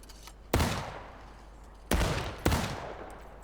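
Musket fire in the Civil War game War of Rights during a drill: three separate loud shots, each a sharp crack followed by a long rolling echo, the second and third closer together.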